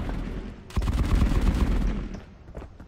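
A dense rapid burst of gunfire in the video game Marauders breaks in sharply and rattles loudly for about a second before tapering off into scattered fainter shots.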